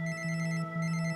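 A mobile phone rings with a steady electronic tone pattern, repeating short rhythmic pulses of a bright melodic ringtone, close and clear with no voices.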